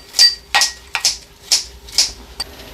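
Scissors snip through fresh herbs for a Thai beef salad, six crisp close cuts at an even pace with no talk.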